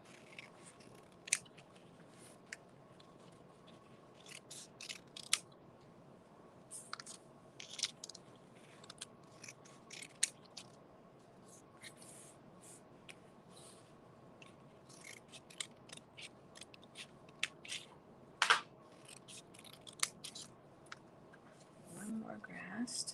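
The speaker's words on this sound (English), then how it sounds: "Just flipping it around here so it's easier to cut the grass tops." Scissors trim paper grass tops for a weaving craft, snipping in many quick, crisp, irregular cuts close by against a quiet background.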